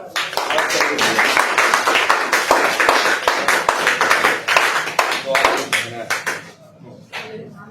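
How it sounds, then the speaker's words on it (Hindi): Close hand claps ring out in a quick, uneven series of sharp slaps, with voices talking nearby and the clapping thinning toward the end. "एक बार ताली मारो"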